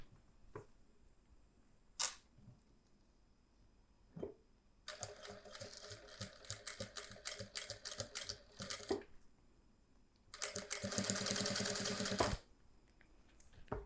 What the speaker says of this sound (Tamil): அந்த ரோப்பை சென்டரில் வச்சு ஒரு தையல் போட்டுக்கோங்க